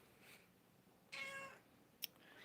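A house cat gives a short, clear meow at close range in a quiet room, followed moments later by a brief sharp click, with faint background hiss and no talking.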